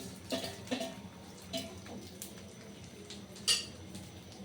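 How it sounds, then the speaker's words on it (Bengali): Rice for pulao being turned in a pan of hot oil with whole garam masala, a few light scrapes and metallic clinks of a spoon against the pan, with faint background noise and a sharper clink near the end. "এখন আমি পোলার চালটাকে ভালোভাবে নেড়ে চেড়ে নেব।"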